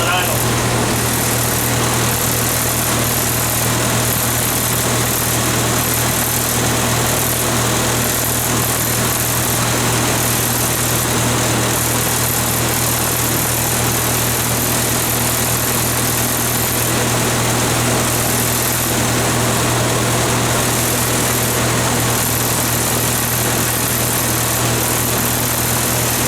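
A vintage Hobart 10 kW generator driven by a Hercules IXBER engine idles steadily, a loud continuous droning hum that stays even throughout with no breaks.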